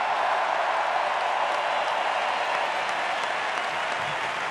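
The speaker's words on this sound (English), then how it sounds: "How about a tremendous round of applause for these folks out here?" A tremendous round of applause for the players after NLCS Game 6, with a dense, steady roar of clapping and crowd noise that stays loud and unbroken throughout.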